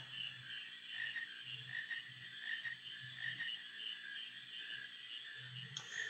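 Frogs croak in a Final Fantasy IX game area, a soft repeating low croak pattern under a constant high ambient music tone.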